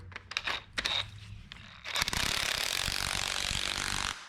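A ratchet wrench with a socket turns a nut on the suspension of a 1961 Parkwood wagon. A few sharp separate clicks come first, then a loud, steady, fast ratcheting buzz runs for about two seconds, close up and with no talk.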